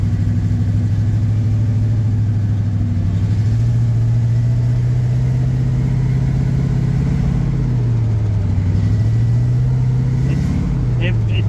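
A 1954 Chevy 3100 pickup's engine drones steadily while the truck is driven, stuck in first gear, its pitch rising and falling slightly with throttle changes, close and loud throughout.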